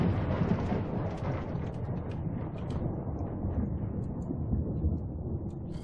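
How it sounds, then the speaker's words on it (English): A thunderstorm in Minecraft rumbles low and heavy, with steady rain noise and a deep roll that gradually fades, heard alone without talk. "Another storm."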